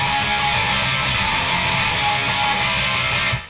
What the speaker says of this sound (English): And so we're going to play that intro part